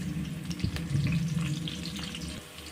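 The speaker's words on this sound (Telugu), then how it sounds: "ఈ పచ్చిమిర్చి ఆనియన్ని ఫ్రై చేసుకోండి" Green chillies and onion fry in hot oil, a steady close sizzle with a light stirring clatter, fading slightly toward the end, no voices.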